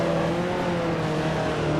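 A powerful 1955 Ferrari Formula One car in the Grand Prix Legends racing game, its engine droning loud and steady at high revs with a gritty, harmonic tone, brief and continuous.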